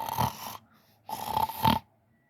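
A human voice imitates a sleeping giant snoring loudly, with two long rasping snores separated by a short pause and no other sound.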